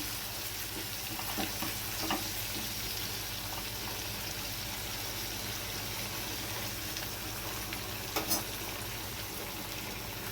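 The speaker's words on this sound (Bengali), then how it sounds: "এবার আমি দিয়ে দেব সামান্য একটু জল এক কাপ মতো জল আমি দিলাম" A vegetarian papaya and coconut curry sizzles and bubbles in the pan after a cup of water is added, giving a steady, moderate frying hiss with a few light clicks of a utensil and no talking.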